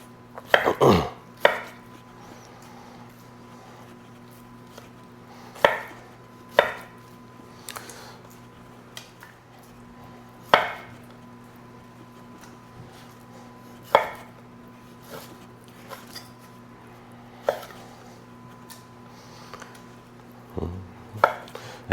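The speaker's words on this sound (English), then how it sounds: "we're gonna cut this up into just a couple inch sized chunks that we're gonna put in here" A fairly sharp knife cuts seared beef into couple-inch chunks on a cutting board, giving about a dozen sharp, distinct chopping thuds spaced a second or two apart over a steady low hum.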